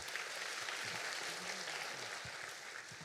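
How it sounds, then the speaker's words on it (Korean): An audience at a Korean church missions forum claps in encouragement for a visiting pastor, a soft, even wash of applause heard faintly from a distance for about three seconds. "격려의 박수 부탁드리겠습니다."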